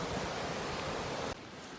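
Strong gusting wind on a mountain hike roars as a loud, steady broadband rush across the microphone, then drops abruptly to a lower level near the end.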